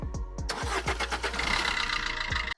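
A blue used Maruti Suzuki Swift at a pre-owned car garage in Malappuram cranks with a few quick starter pulses, then catches and settles into a steady close idle. No one speaks.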